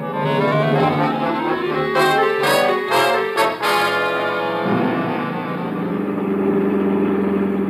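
Car engine driving as an old radio drama sound effect, a steady mid-pitched motor hum with slight rises and falls, heard close and alone with no talk over it.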